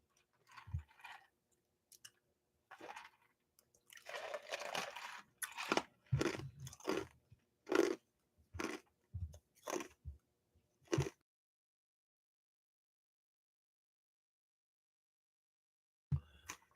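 Crunchy food being chewed close up, a series of sharp crisp bites and crunches in irregular bursts, then silence.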